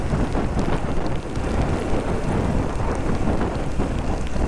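Heavy afternoon rain with thunder, a steady loud roar of downpour with low rumbling and wind buffeting on the microphone throughout, continuous and without talking.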